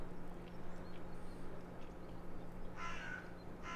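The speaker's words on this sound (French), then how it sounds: "ça c'est un corbeau" A crow caws outdoors on a fine, spring-like day, two short rough calls near the end. They are faint and somewhat distant over a quiet background hum.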